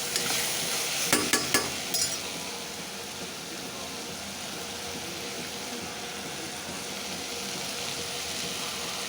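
Washed chicken pieces sautéing in a pan make a loud, continuous sizzle that holds for the whole stretch, with a quick cluster of metallic spoon clinks early on.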